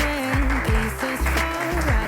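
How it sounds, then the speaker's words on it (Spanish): A crowd at a live podcast recording in Madrid claps in a steady, full wash under a strong sustained tonal sound, close and fairly loud throughout. "Os pido un aplauso para ella en homenaje"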